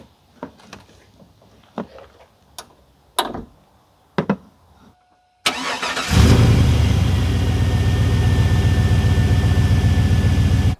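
A few sharp clicks and taps from work under the hood of a Chevy truck give way to a brief tone. Then the A/C compressor kicks on with an abrupt, loud, steady mechanical whir that keeps running.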